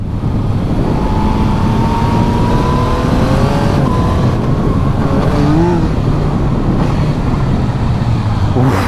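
A loud motorcycle engine, a 2024 Yamaha MT-09, roars and revs continuously, its pitch sliding up and down through gear changes, close and sustained throughout.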